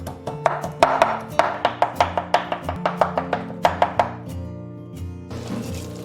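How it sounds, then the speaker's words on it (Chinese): A knife's back pounds a pile of peeled shrimp on a cutting board, about twenty sharp, evenly spaced thuds in quick rhythm, close and loud, then a pause and softer rustling. "我们用这个刀背哈，刀背拍一拍"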